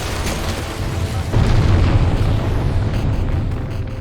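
A loud, sustained rumbling explosion with crashing debris, booming heavily and then trailing off.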